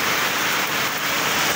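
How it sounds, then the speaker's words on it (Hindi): Heavy rain pours down steadily, a dense and continuous loud hiss with no voices. "प्रबल वर्षा"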